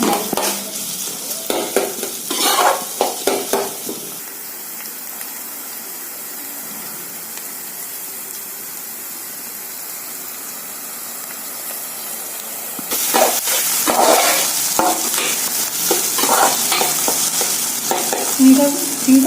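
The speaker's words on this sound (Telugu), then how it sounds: "గోల్డెన్ కలర్ వచ్చే వరకు ఇలా ఫ్రై చేస్తూనే ఉండాలి" Chicken curry frying in a pan until golden: a loud, steady sizzle with bursts of stirring and scraping at the start and end, and a calmer hissing stretch in between.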